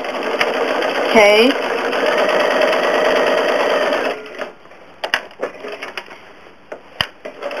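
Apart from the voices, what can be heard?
home sewing machine stitching a quilt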